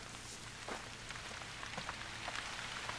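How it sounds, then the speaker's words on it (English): Rain patters steadily across surfaces in the video game theHunter: Call of the Wild, a soft, constant hiss with scattered droplet ticks and no speech. "Now we're getting rained on."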